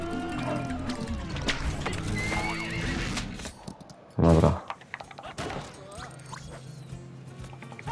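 A horse in the Zorro The Chronicles video game gives one loud, sharp whinny in the middle, set among busy game sounds and hoof clip-clops, with some voice in the mix.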